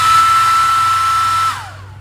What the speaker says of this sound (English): we're going to see if we can blow it out with a hairdryer on high